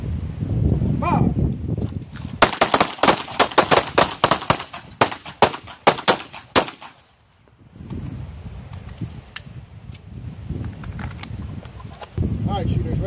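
Pistol gunshots at an outdoor shooting range during a training drill, a rapid volley of sharp, loud cracks in fast succession after a brief voice, then quiet with a few distant shots.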